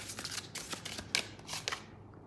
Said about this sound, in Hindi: थोड़े से और कार्ड्स लूँगी मैं